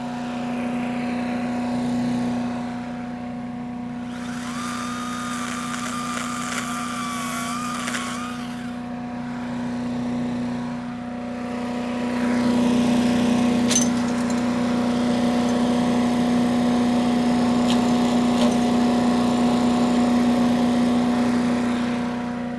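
A Harbor Freight Predator residential wood chipper runs with a steady engine drone and strong hum, its pitch and grinding rising as wood is fed through, continuous and close throughout.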